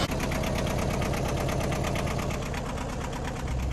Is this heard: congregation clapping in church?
no